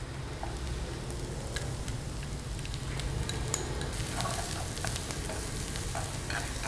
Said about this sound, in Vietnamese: khi mà hành tỏi đã bắt đầu thơm rồi thì chúng ta sẽ cho nấm vào để xào